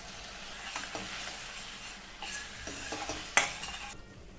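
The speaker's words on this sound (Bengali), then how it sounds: "এখন এটা খুব ভালো করে কষিয়ে নেব।" Poppy seed spice paste fries and gets stirred in a pan for potol posto, with a soft steady sizzle broken by scraping spatula strokes and a sharper clack near the end, no voices.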